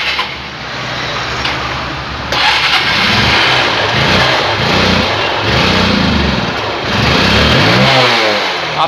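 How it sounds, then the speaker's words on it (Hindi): A Honda Unicorn 150 motorcycle engine catches after a quieter start and settles into a loud, close, steady running note with slight surges in revs. No one speaks. "आप सुन सकते हैं इसकी इंजन का आवाज़"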